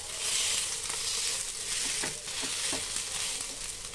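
Puri fries in hot oil in a kadhai, giving a steady, close sizzling hiss with faint bubbling pops throughout.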